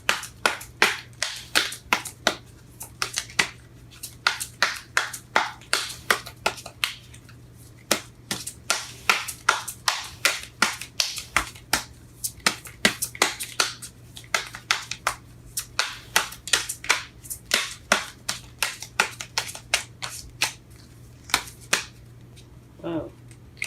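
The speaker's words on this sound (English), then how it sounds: "Shuffling these cards are hard." Tarot cards are shuffled by hand in a fast run of crisp, rapid riffles and taps, close and loud, with brief pauses between bursts.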